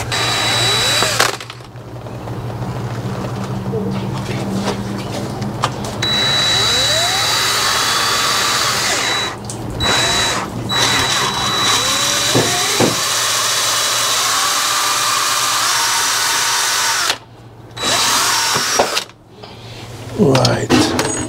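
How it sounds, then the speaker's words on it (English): An electric drill bores a hole through a wall to mount a weatherproof outdoor socket, a loud, close, sustained whirring grind broken by a few brief pauses and restarts. "I now need to drill my hole in here"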